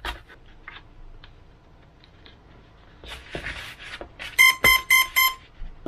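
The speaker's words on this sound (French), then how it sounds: "il y a bien eu les 4 bips" Four short electronic beeps from a motor controller on a 4S battery sound in quick succession, clear and evenly spaced, after some quiet handling noises.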